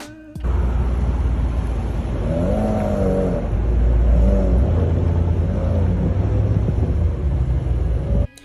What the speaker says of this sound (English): what seems to sound like a clutch being released after takeoff